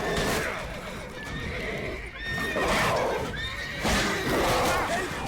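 Horses neighing and whinnying repeatedly in The Witcher 3: Blood and Wine, several high shrill calls with clip-clop hooves beneath, over game noise and voices.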